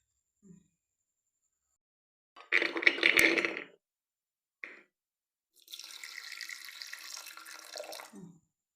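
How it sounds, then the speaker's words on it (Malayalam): Water is poured into a pressure cooker holding peeled food in a kitchen, heard as separate short splashing bursts, the longest near the end, with silence between them. "കുറച്ച് വെള്ളം മതി."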